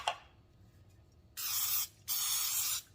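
Two short bursts of olive oil baking spray hiss into a baking dish, each lasting about half a second, close by and fairly loud against a quiet background.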